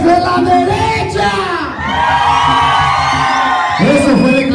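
At a quinceañera dance with a live banda, the right side of the hall's crowd erupts in loud, sustained shouting and whooping, dipping briefly in the middle and surging again near the close.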